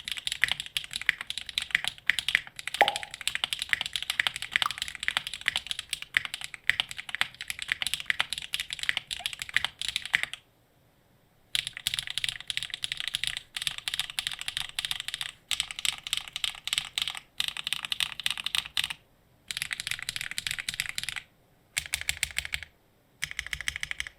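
Typing on an O-ring mounted mechanical keyboard, heard as steady, close, rapid key clacks in bursts with a few brief pauses and occasional heavier spacebar thocks.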